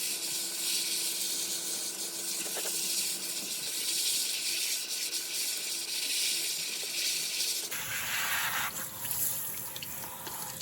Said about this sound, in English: so I got this air filter sprayed out real well